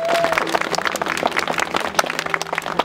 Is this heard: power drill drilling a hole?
no